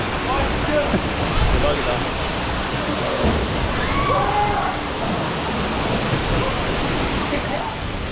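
A waterfall near Kilimanjaro in Tanzania roars in a steady, broadband rush close by, and a voice briefly speaks over the constant water noise.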